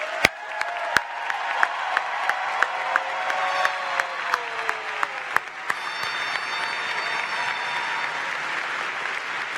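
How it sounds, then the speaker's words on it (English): Another round of applause from the audience at a Cal Poly fall commencement ceremony, a broad crowd clapping over sustained musical tones, with a few sharp nearby claps standing out and some cheering mixed in. "Let's give them another round of applause."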